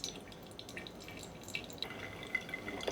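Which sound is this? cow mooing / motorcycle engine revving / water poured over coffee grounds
water poured over coffee grounds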